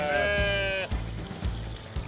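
Sheep bleat on a 64-acre farm, one long loud bleat near the microphone followed by soft repeated low thumps and rustling, with no talk.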